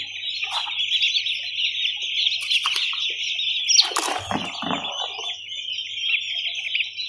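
Young broiler chicks of the Big6 breed chirp steadily together on a poultry farm, a dense continuous high peeping chorus with a few louder calls and brief handling noises near the middle.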